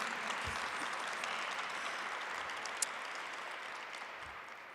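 A crowd applauds lion dance performers at an outdoor Lunar New Year heritage celebration in San Francisco, a steady, fairly distant patter of clapping lasting several seconds with occasional low thumps.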